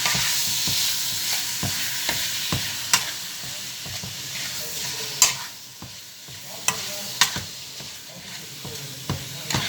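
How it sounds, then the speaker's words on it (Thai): Spring roll filling is stir-fried in a pan with a steady close sizzle, overlaid by frequent scraping and clinking strokes of the spatula stirring the food. "คนให้เข้าเข้ากัน ผัด ผัดไส้ปอเปี๊ยะ"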